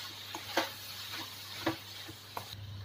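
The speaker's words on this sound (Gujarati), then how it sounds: "અંદર આપણે કોથમીર નાખીશું અને હવે બધું બરાબર મિક્સ કરીશું" A spoon scrapes and stirs coriander and ground spices into a spiny gourd (kankoda) curry in a pan. Soft, faint taps and scrapes come at intervals over a low background sizzle.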